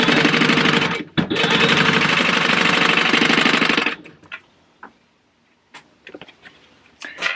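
Sewing machine running steadily for about four seconds as it lays an eighth-inch top stitch along purse card slots, stopping once briefly mid-run, then falling quiet apart from a few small handling clicks.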